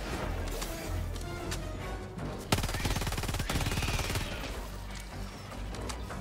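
Rapid gunfire from a Helldivers 2 mission, an Arc-12 Blitzer and Punisher Plasma in play, crackles in dense bursts, with a sharp, loud volley and crash in the middle and steady shooting on either side.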